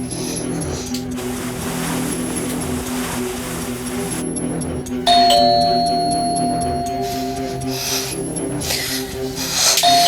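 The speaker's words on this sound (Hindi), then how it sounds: "अरे बजाने दो घंटी बुड्ढे को" A doorbell rings at a house door in a thriller comedy scene, a clear chime tone rising out of steady background noise and holding for a couple of seconds before sounding again near the end.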